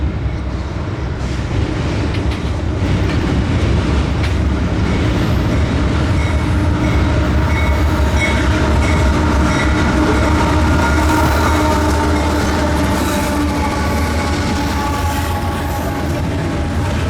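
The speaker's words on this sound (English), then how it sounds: "Leading intermodal train I-166, typically this train is half intermodal and half mixed freight" Intermodal freight train I-166 rolls by with no containers on its cars, a loud, continuous rumble of wheels and rattling empty cars that stays close and steady throughout.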